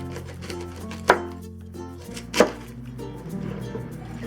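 Two sharp knife chops through a whole head of cabbage on a cutting board, spaced about a second apart and close up, with a low hum between them and no talking.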